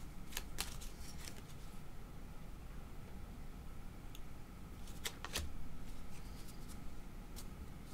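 Tarot emotion cards being shuffled by hand, producing a run of crisp, close riffling snaps and flicks over a steady low background hiss, with a denser burst of shuffling near the middle.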